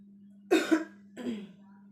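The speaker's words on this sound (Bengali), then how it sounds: "আজকে কয়েকদিন ধরে আমার অনেক কাশি ঠান্ডি" A woman with a cold coughs twice close to the mic, a quick double cough then a softer one, over a steady low hum in a quiet room.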